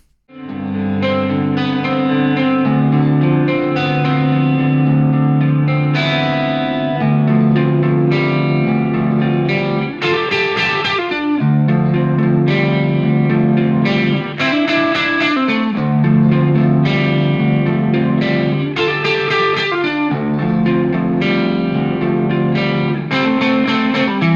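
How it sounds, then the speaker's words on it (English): Clean electric guitar chords and picked notes shimmering with a swirling chorus effect, played alone and sustained, with a warm, wide modulation. "Let's check out some quick isolated guitars."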